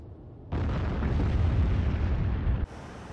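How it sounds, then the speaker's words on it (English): A single aircraft bomb dropped from an Su-25T striking its target in a flight combat simulator game, one deep sustained explosive rumble bursting in abruptly, then cutting to quieter background. "I'm only dropping a single bomb, which you can see here falling towards its target"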